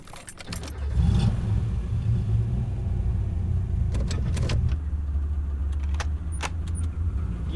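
A car starts up and idles into a steady low engine rumble, close by, with jangling keys and a few sharp clicks and knocks from inside the vehicle, no speech.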